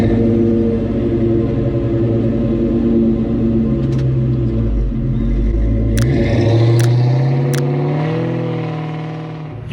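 A 1998 SVT Cobra with Flowmaster Outlaw dump exhaust and OEM H-pipe idles and revs close by, its deep, loud rumbling burble swelling up and settling back, with a few sharp clicks in between.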